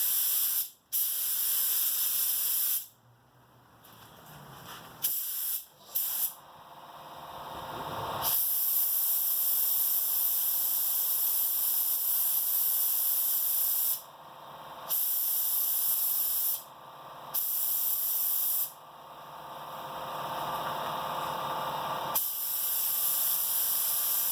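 A spray gun hisses steadily while painting a VW Kombi, long loud bursts of broadband spray broken by short pauses as the trigger is released, with no talking.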